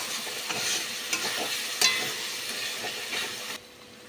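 Ginger-garlic paste and chili powder sautéing in hot oil, a steady close sizzle with scraping stir strokes at intervals, ending in a sudden drop to quiet near the end.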